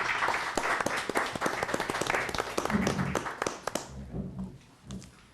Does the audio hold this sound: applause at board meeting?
yes